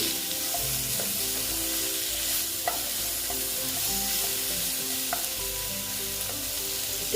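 Bitter gourd, pumpkin and potato frying slowly in a pan, a steady close sizzle with occasional scraping stirs and light clinks throughout, no voices.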